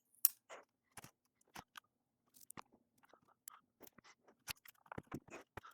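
Pruning shears snip through stems while a tropical plant is cut back for winter, giving a series of quiet, sharp clicks and crunches spaced irregularly over a few seconds in a still setting.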